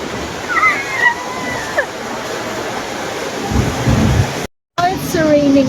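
Steady rain falls outdoors as a broad, continuous hiss with low rumbling underneath, with faint bird-like chirps and a brief dropout near the end.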